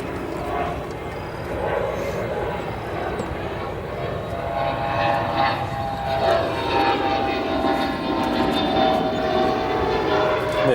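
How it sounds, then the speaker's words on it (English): A United Airlines Airbus A321neo departing O'Hare gives a steady, loud jet roar that builds slightly and holds for the whole stretch, broad and continuous with no pauses. "the fifth A321neo for United. That'll be next departing."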